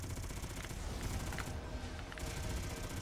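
Continuous dense gunfire from the Robotech: Invasion video game as enemy cannons are shot off, a steady loud barrage with rapid overlapping shots and mechanical clatter throughout.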